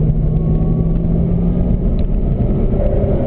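A Corvette ZR1 on the Spring Mountain racetrack just after a downshift, its engine a loud, continuous low rumbling drone heard close from inside the car, with no talk.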